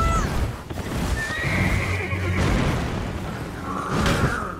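Horse neighing in the video game Elden Ring: two loud, shrill whinnies, one near the start and another near the end, ring out over a dense bed of game noise and thuds.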